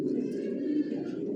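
Racing pigeons of a Janssen long-distance line coo in a loft, a steady low murmur of overlapping calls filling the space without pause.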